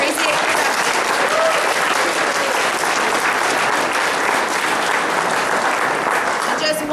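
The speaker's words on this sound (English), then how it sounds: "If we could give them a round of applause." A loud, dense round of audience applause at a high school play, steady and sustained throughout with no break, filling the room.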